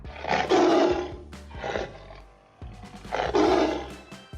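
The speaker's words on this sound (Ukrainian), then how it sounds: "Лев тато." Lion roaring in three long, loud, close bursts separated by short pauses, with no voices.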